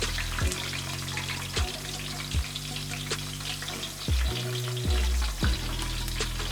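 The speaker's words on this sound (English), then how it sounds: "Just a few seconds in the oil, and they're ready" Peppers sizzle and crackle steadily in hot oil in a pan, a loud close frying hiss with occasional louder spits and bubbling bursts, no one talking.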